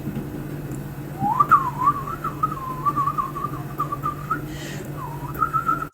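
A person whistles a light, wandering tune, imitating a man casually whistling while getting ready. The melody is close and clear, runs in short connected phrases with brief pauses, and sits over a low steady hum.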